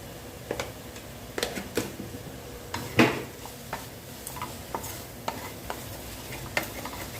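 Moong dal, onion, dried red chilli and coconut being sautéed in oil in a pan, with scattered stirring scrapes and light clinks over a soft sizzle, one louder scrape partway through.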